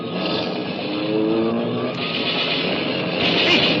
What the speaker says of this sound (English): Hey, Charlie, a prowl car